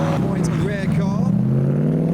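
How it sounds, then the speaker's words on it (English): A V8 engine in a rare Invicta S1 car runs loud and close with a steady low rumble that swells slightly, while voices talk over it. "Only V8 noises from the Invicta."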